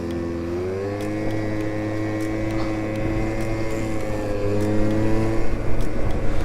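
Motor scooter engine rising steadily in pitch as it accelerates on the road, a continuous close buzzing drone that grows louder toward the end with wind rush.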